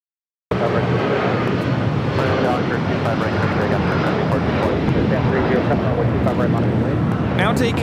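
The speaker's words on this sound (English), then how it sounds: "Now taking off, this is United Airlines 368, taking off to Newark on a 757-200" United Airlines Boeing 757-200 taking off from LAX: after a brief silence, a loud, continuous broadband engine roar sets in and holds steady to the end.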